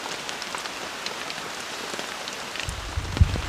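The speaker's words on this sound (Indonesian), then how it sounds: "Oke, jadi malam ini hujannya terus mengguyur ya, suasana semakin dingin teman-teman." Heavy rain pours steadily at night on a camp in a bamboo forest, a continuous dense hiss of drops close around, with a few louder patters and a low thump near the end.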